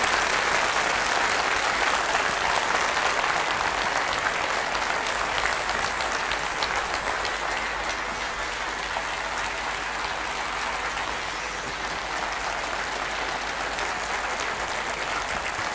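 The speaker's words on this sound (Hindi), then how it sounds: "एक बार आप जोरदार तालियां बजाएं और थोड़ी लंबी बजाएं" A large audience at a 50th birthday celebration gives loud, sustained applause, a dense wash of clapping that holds steady for about sixteen seconds and eases slightly toward the end, with no talk over it.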